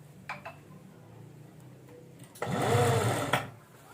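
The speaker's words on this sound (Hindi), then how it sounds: "अब हम सिलाई लगाना स्टार्ट करेंगे।" A sewing machine stitches fabric for a designer maxi dress in a short, loud whirring burst of about a second, preceded by a few quiet clicks and handling knocks, with no one talking.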